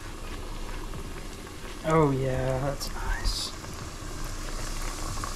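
Battered white bass fillet dropped into hot oil, a steady crackling fry with a brief louder burst as it goes in, heard close while a voice briefly comments over it.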